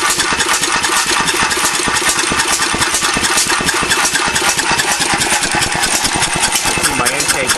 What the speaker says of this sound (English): Not too many of these engines still around, so the fact that it's running at all is a plus.